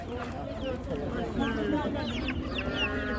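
Many chickens, chicks and geese cluck and peep together in a busy, close chorus at a poultry market in Ganja, Azerbaijan, with murmuring voices underneath.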